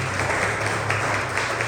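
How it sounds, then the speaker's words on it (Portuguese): Church congregation applauding together in a dense, steady wash of clapping that holds evenly for a brief moment. "Aplauda o Senhor."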